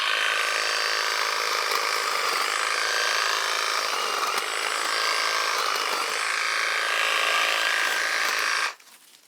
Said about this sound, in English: We're going to cut some hedges.